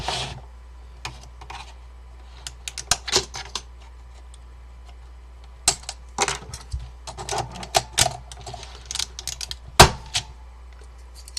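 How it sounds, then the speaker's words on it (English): Keycaps pulled off a Focus FK-2001 Alps keyboard with a keycap puller, a series of sharp plastic clicks and snaps spaced irregularly between quiet pauses, close up. "get the keycap puller, make sure that goes under the wire, and straight up"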